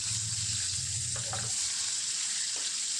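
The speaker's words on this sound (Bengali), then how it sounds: "একটু উল্টে পাল্টে দেবো যাতে এই সাইডটাও ভাজা হয়ে যায়" Food frying in a covered pan, a steady close sizzle running throughout, with a few brief clinks and stirring movements partway through.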